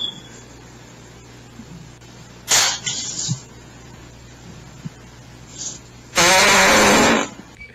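A loud, brassy fart erupts late in the clip, a sustained buzzing blast of about a second, preceded by a shorter burst a few seconds earlier against a low background hum.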